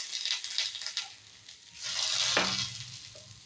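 Fish frying in mustard oil in a pan, with leaf wrapping, gives a soft sizzle that swells as oil is poured in along the side, then hisses quietly with light stirring clatter.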